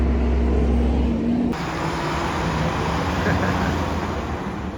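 A BMW E46 driving on the road with ice packed inside the wheels, giving a constant loud rumbling road and tire roar with a low drone, slightly changing in tone partway through.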